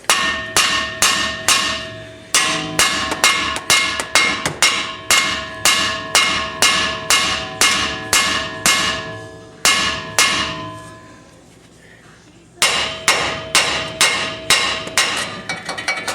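Repeated sharp metallic hammer blows strike a ball joint on the suspension of a 2005 Ford F150. They fall in steady bursts of about two per second, loud and close, with one brief pause partway through.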